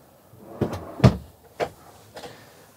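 A drawer inside a Laika Ecovip H 4109 DS motorhome is opened and shut, giving a few close, short wooden knocks and sliding thumps spread over a couple of seconds in an otherwise quiet interior.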